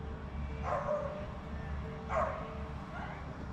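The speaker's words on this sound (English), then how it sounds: "As you can hear, dogs are allowed here." Dogs bark at a beach campground by Stockton Beach, two short bursts spaced apart, moderately distant over a low background hum.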